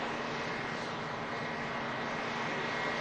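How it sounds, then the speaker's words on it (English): VistaJet business jet taxiing at Manchester Airport, a steady broadband engine roar with a faint whine, constant and moderately distant with no one talking. "And this is one of the VistaJets"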